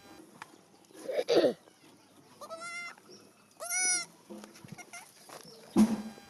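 A sick, dying goat gives two clear, drawn-out bleats close by, while farm chickens cluck briefly before and after in an otherwise quiet yard.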